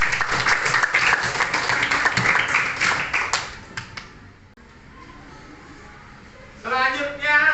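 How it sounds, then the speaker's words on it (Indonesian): Classroom applause from students, a burst of clapping for a classmate's answer that fades after a few seconds, with teacher and pupils talking over and after it. "Ya, tepuk tangan"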